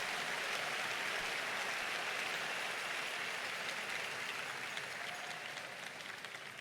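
Sustained applause fills a church service as the congregation claps for Jesus, a dense, steady wash of hands that holds evenly from start to finish and tapers only slightly near the end.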